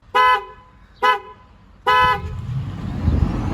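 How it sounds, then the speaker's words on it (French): A car horn sounds three times in a parked Tesla Model 3, loud, close tonal toots. The first two are short and the third is held longer, followed by a low rumble of the car moving off. "troisième coup de klaxon."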